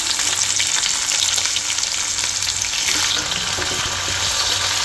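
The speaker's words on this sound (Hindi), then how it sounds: "तो हल्का हल्का सा लहसुन ब्राउन होने लगा है, तो ये प्याज डाल देंगे इसके अंदर।" Garlic, onion and cumin fry in hot oil in a pan, giving a loud, continuous sizzle with crackling pops and light stirring scrapes.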